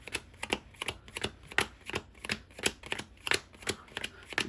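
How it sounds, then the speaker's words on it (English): Yu-Gi-Oh trading cards are power shuffled by hand into piles, giving a steady run of quick, crisp card slaps and riffles at close range with no talk. "let's go ahead and power shuffle into 3."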